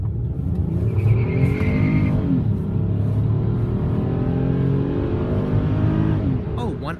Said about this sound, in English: And here's a quick little acceleration video.